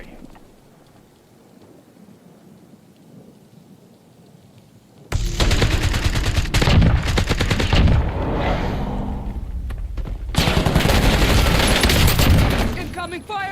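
Heavy gunfire in the game RTOR: a quiet stretch, then a dense, loud burst of rapid shots, a short lull, and a second sustained volley.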